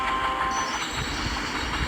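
A diesel train rumbles steadily at a station, giving an even, continuous mechanical drone throughout.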